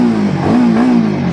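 A Royal Enfield Himalayan 452 motorcycle revs loudly and close up in a narrow alley, its steady mid-pitched engine note swelling slightly as the throttle rises and echoing off the walls.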